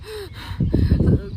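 A woman imitates heavy, laboured breathing, a few drawn-out noisy breaths, close and alone without other talk.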